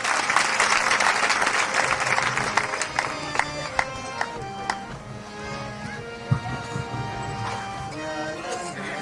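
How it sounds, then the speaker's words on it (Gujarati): Sustained applause greets a donor being honoured at a religious gathering, a Bhagavat Saptah discourse held in a village to benefit a cow shelter. The clapping is dense and loud at first, then thins out, with a few sharp claps near the end. "આપણે સ્વાગત કરીએ તાળીઓથી"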